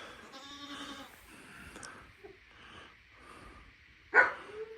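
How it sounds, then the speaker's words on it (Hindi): Goats arriving to eat at a snowy Siberian homestead give a few bleats: a nasal cry near the start, then a louder, sharper close bleat near the end, over quiet outdoor ambience. "यार आ गई बकरियां भी खा लें।"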